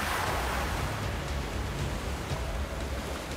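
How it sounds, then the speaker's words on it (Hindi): Sea waves crash and churn near an island off the Maharashtra coast, a dense, steady roar of surf and spray that fills the whole stretch without a pause, loud and close, with no voices. "लेकिन टापू के दिखते ही लहरों ने झटका देना शुरू कर दिया।"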